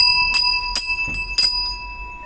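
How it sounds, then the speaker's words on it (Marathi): A small bell used as a doorbell at a house porch is struck about four times in quick succession, its bright ringing tone lingering close by between strikes. "याला आम्ही डोरबेल म्हणून याचा वापर करतो"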